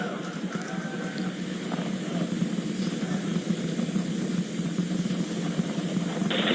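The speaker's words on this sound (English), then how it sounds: "We're seeing 32 out of 33 engines lit on the Super Heavy right now." SpaceX Starship Super Heavy booster climbing toward max Q with 32 of 33 Raptor engines lit, heard as a steady broad distant roar that stays continuous and moderately loud.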